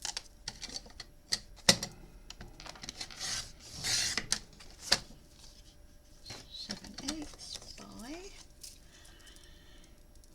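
A paper trimmer slices a notecard with rasping, scraping strokes and light clicks near the mic, set among quiet handling noises, while a person talks at times.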